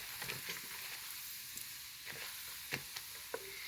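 Urad dal and chana dal sizzling in hot oil in a pan, a quieter continuous fry with a few sharper pops and faint clinks of stirring, no talk.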